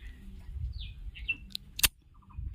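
Birds chirp outdoors among trees and greenery, with a few short, thin calls and one sharp bright chirp near the end over a low, steady rumble of background ambience.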